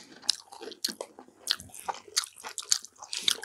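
Crispy fried home-party food such as cream shrimp or sweet-and-sour pork is bitten and chewed up close, giving repeated sharp crunches at an irregular pace with no talking.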